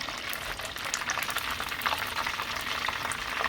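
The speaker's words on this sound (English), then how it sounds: "So I'm going to fry up the rest of my fish" Beer-battered fish frying in hot oil, a steady dense sizzle and crackle with scattered pops, close and continuous with no voices.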